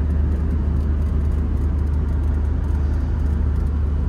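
Steady low interior drone of a car cruising along a road, a constant engine and road rumble without breaks or speech.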